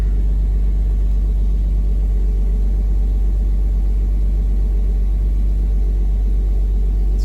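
A Porsche Boxster engine idling steadily after an immobilizer alarm module repair, a close, constant low rumble without breaks or revving.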